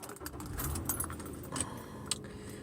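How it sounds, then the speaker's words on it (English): A bunch of car keys jangles and clinks close by in short bursts over a low steady background hum, with no talking. "Just got to find my fucking keys"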